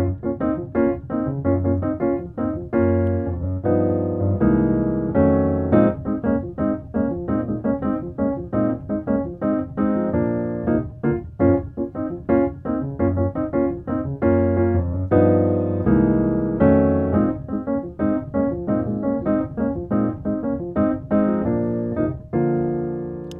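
Warm gospel jazz piano chords moving steadily around the circle of fourths with rich voicings, played continuously with a lively rhythmic bass underneath.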